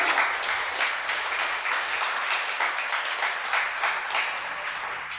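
A congregation applauds during a Shabbat sermon, a sustained round of clapping with individual claps audible in a loose, pulsing rhythm, loud and steady before easing slightly near the end.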